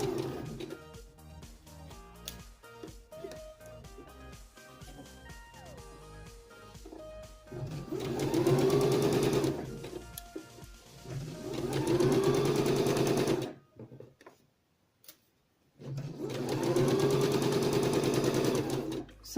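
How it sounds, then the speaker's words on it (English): Domestic sewing machine stitching a zipper seam: a first stretch of quieter, uneven stitching gives way to three loud sustained whirring runs with short pauses between, close and alone. "Begin to sew along, making sure to maintain your seam allowance."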